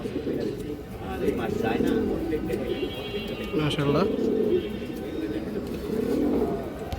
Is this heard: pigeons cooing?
yes